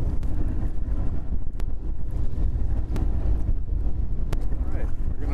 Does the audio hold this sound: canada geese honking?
no